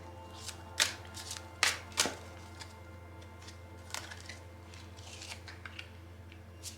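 Tarot cards are laid down on a table one after another, giving a few sharp close snaps and flicks followed by softer slides and taps over a quiet steady hum, with no talking.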